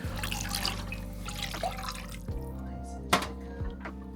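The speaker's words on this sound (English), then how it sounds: "I'm gonna add a little bit of water just to thin it out" Water poured into a pan of roast vegetables, a soft close trickle and drip with a steady low hum behind it and a single sharper splash near the end.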